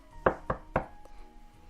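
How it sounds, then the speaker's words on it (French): Three quick, hollow knocks land on a bedroom door, close and fairly soft, with an even rhythm and a short resonant ring after each, followed by quiet. "papa frappa à la porte"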